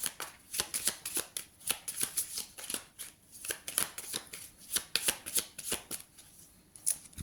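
A deck of tarot cards is shuffled over and over in quick rhythmic riffles, each a crisp close flutter, steady for the whole stretch with no talking.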